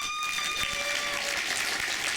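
A retro gaming expo panel audience breaks into applause that swells into a dense, sustained clapping wash, with a brief tonal sound fading out early.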